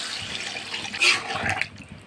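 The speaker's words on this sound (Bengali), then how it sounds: "এখন পানি দিয়ে দিব এর ভিতরে।" Water is poured into a pot of broiler chicken cooking with salt, turmeric and spices in oil, making a steady splashing rush that swells briefly near the middle and then eases off.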